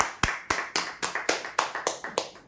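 Close, loud clapping at a prize draw comes as a rapid run of about ten distinct claps, slightly uneven in rhythm, like a small group or a single pair of hands near the microphone.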